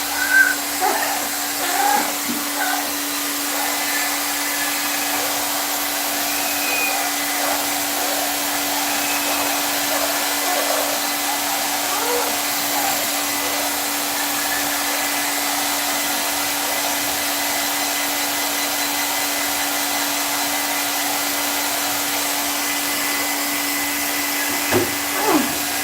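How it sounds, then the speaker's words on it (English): A hair dryer on a cool setting blows pet birds dry after a bath, giving a steady, close whine with a constant hum that runs unbroken for a long stretch, with only faint sounds now and then. "Cool air blow dry."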